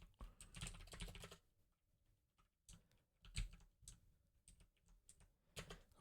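Typing on a computer keyboard while working in the Neovim text editor: quiet, close key clicks in short irregular bursts separated by silent gaps.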